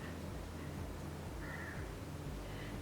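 Crows caw a few times in the distance over a steady, dense background hiss.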